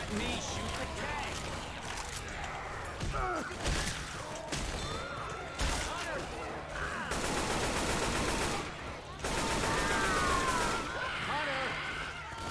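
In the Left 4 Dead 2 Diescraper Redux custom map, several guns fire at the Tank in dense bursts and rapid automatic volleys, broken by short pauses and crashes, while characters shout over the shooting.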